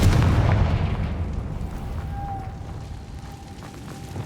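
A Confringo fire spell explosion in Hogwarts Legacy, a heavy booming blast at the start that rolls off into a long fading rumble with a thin ringing tone trailing behind.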